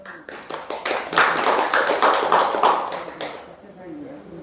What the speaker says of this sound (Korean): 쉬운 박수